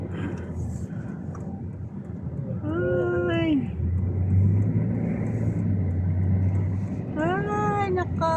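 Road traffic rolls along a flyover as a steady low rumble of passing vehicles, with a louder stretch as one goes by, while people talk over it.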